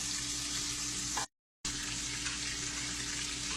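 Food frying in a pan until brown and crispy, a steady dense sizzle that briefly cuts out before resuming, close and even.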